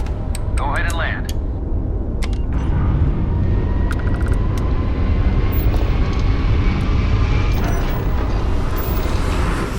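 Spaceship engine roar from a ship landing in the game Starfield, a steady loud broadband rumble throughout with brief voice fragments and clicks early on.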